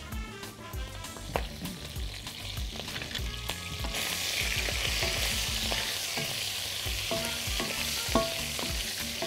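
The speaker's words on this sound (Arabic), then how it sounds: "انا هحط لها قرن فلفل حامي يتحمر معاها" Cow trotters frying in a pan with a hot chili pepper, giving a continuous loud sizzle and crackle that swells after a few seconds, with clinking stirs against the pan near the start and no talking.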